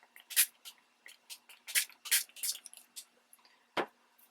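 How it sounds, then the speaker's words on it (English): Bursts from a spray bottle misting watercolor onto foam prints, several short hissing sprays in an uneven rhythm, close and fairly quiet, followed by a brief lower squish or drip near the end; no talking. "Let me spray these again."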